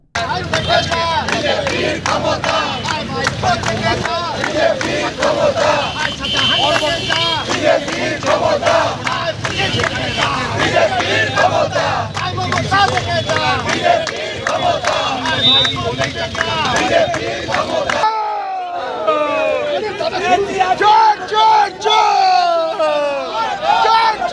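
A crowd of political protesters in North Kolkata chanting and shouting slogans loudly and continuously outside police stations, voices rising in massed rhythmic cries close by.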